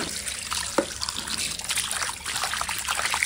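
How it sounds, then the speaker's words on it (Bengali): Tap water runs steadily at an outdoor washing spot while shutki fish are rinsed clean, a continuous close trickle and splash with a few small knocks, no one talking. "এখন শাটিং মাছ ধুয়ে পরিষ্কার করে নেবো।"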